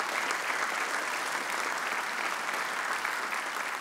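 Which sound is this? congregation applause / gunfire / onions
congregation applause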